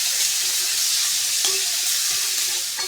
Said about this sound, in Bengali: টমেটো একটা কেটে দিয়ে দিচ্ছি।